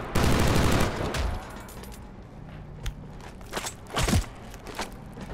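Gunfire in the first-person shooter Killzone Shadow Fall during a Warzone multiplayer match at the Factory map: an opening dense burst of rapid shots, then scattered sharp single reports and short volleys spaced out over the following seconds.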